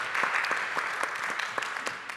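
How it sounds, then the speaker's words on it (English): An audience applauds to welcome a speaker at an art and code talk, a moderate, steady patter of many hands with distinct claps pulsing through, heard from a short distance. "Round of applause for Casey."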